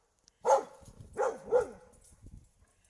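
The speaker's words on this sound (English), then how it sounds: "What's the other dog barking?" A dog barks three times up close, each bark distinct and separated by short pauses, outdoors in a yard where a woodchuck and birds were about.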